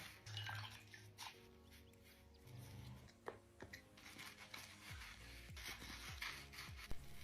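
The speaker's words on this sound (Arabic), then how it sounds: "انتي بتليفي بوجهك ولا بقزاز سيارة؟" A sponge rubs and scrubs across facial skin in a bathroom skincare routine, giving repeated close, soft rasping strokes with faint wet drips between them and no talking.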